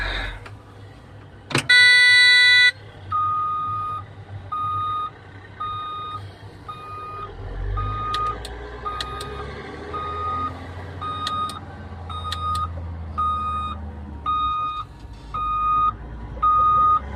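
Caterpillar D6R2 bulldozer warning alarm beeping in a steady repeating pattern of short tones, loud and close, over a low engine or cranking rumble at a diamond mining site.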